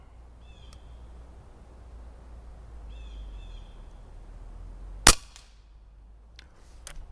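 Umarex Notos air rifle firing a pellet at a target outdoors, a single sharp crack heard once mid-clip, with faint bird calls and quiet ambience around it.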